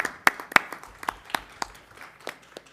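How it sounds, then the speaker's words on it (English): Sparse applause at a board of education meeting, a handful of people clapping in loose, uneven claps, a few sharp and close, thinning out over a few seconds. "Round of applause."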